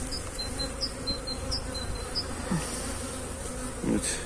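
Honeybees buzz steadily around an open hive during a queen-rearing check, a dense, continuous drone with individual bees passing close by in brief louder swells.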